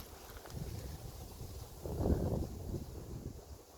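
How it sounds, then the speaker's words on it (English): Wind blows on a bright, windy day, buffeting the microphone with a low, rumbling roar that swells and eases, strongest around the middle. "It's very windy."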